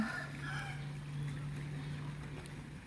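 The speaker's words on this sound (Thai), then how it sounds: "ไปแล้วนะคะเรือวิ่งไปนู่นแล้ว" A boat's engine drones steadily on a river across from Wat Phanan Choeng, with a faint, even hum and wind and water noise around it.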